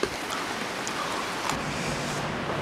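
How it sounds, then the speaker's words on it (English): Heavy rain in Ikebukuro, a dense, steady wash of drops pattering on surfaces all around, loud and unbroken with no voices. "it is raining like a motherfucker"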